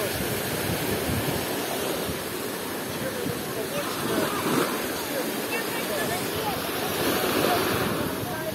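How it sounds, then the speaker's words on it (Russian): Black Sea waves washing onto a sandy beach at Veselovka in Krasnodar Krai, a steady soft surf wash with wind buffeting the microphone throughout. "Даже просто гулять по берегу очень приятно, потому что шум волн, он ласкает ухо."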